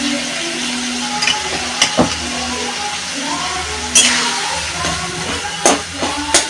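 Cluster figs and mashed potato sautéing in a pan, a soft continuous sizzle with scattered sharp clicks and knocks of a utensil against the pan.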